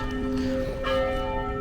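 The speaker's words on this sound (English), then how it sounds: "As the church bells go off at St. Bernadette on 13th Avenue" Church bells ringing at St. Bernadette on 13th Avenue in Brooklyn, clear sustained tones resonating together, moderately loud against a low street background, with no talk.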